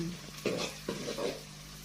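Masala spices for rice fry in a hot pan, a steady sizzle under a few bursts of stirring and scraping; no talking.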